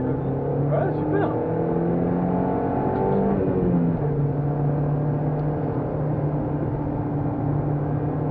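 A Peugeot 206 S16 accelerating on a race track at Clastres, its engine note rising and shifting through gears before settling into a steady drone, heard at a distance under faint background voices.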